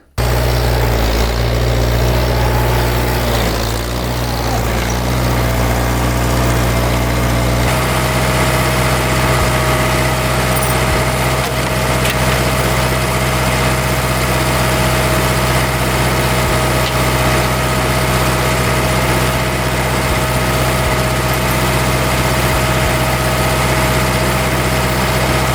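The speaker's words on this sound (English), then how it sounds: "I might take the skid steer and lift up the back a little bit" A skid steer engine runs steadily beside a 100 HP hovercraft as the machine lifts its back end, giving a loud, continuous droning rumble. The tone shifts slightly under load after several seconds, then holds steady.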